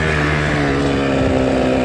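A dirt bike engine labours under load, a loud continuous droning rumble with a low steady tone that wavers slightly as it bogs down.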